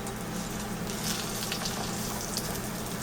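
Breaded, seasoned fish fillet frying in a pan with only a little oil, giving a steady, soft sizzle with faint crackles throughout, close and even, with no talking.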